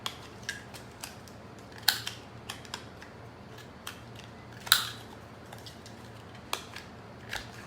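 Scissors trimming the edges of paper cut-outs for a handmade tiny album, with scattered light snips and clicks at irregular intervals over a quiet room background.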